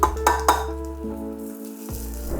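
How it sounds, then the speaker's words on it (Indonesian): Garlic sautés in a pan after onions for a creamy Korean rose pasta, giving a short, steady sizzle that opens with three quick clinks of a utensil against the pan. "Tumis bawang putihnya sampai wangi tapi tidak berubah warna ya"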